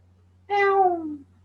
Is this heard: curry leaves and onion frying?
no